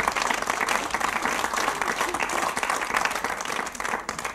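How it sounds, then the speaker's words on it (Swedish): Studio audience giving a big round of applause for a guest, dense continuous clapping heard close and loud from start to finish. "Ja, en stor applåd till Thomas Froms."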